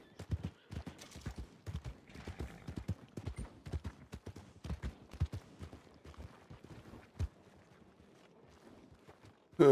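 Hooves of a tall horse clip-clop at a steady walking pace, a run of sharp close knocks with uneven spacing and a louder thump at the very end.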